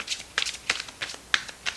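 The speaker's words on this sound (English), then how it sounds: "Shuffle these up a little bit." A deck of cards is shuffled by hand in a series of quick riffles and soft flicks, close and crisp, in an irregular rhythm of about seven bursts.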